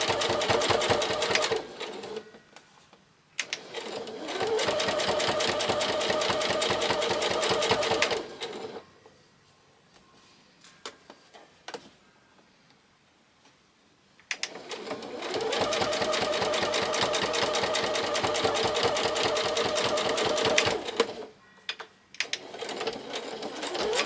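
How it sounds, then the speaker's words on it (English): Sewing machine stitching the top of a fabric Christmas advent calendar closed, a fast, even mechanical whirr running in two long bursts with a quieter pause between, close and clear. "I'm now sewing the top closed"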